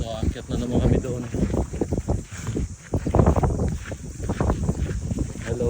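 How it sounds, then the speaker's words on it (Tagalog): Strong gusting wind buffets the microphone in loud, uneven bursts on the summit of Mount Maunganui, with people talking faintly underneath. "ang lakas ng hangin"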